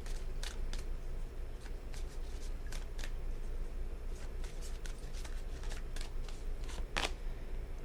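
Tarot or angel cards are shuffled by hand in a quiet room, giving soft, steady papery riffling with sharper flicks scattered throughout. One crisp snap stands out near the end.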